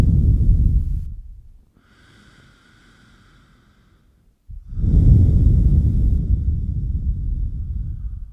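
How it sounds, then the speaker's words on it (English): Slow, deep yoga breathing through the nose: a long loud exhale at the start, a quiet hissy inhale in the middle, then another long, close, airy exhale, alone with no talking. "Nice full breaths in through the nose. Nice long breaths out through the nose."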